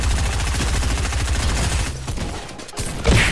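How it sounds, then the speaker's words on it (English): Flare gun shots fire in Fortnite, a rapid string of close, punchy reports in a fast regular rhythm for about two seconds, then a short pause and one more sharp burst near the end. "Oh, I think he used all the shots in the flare gun."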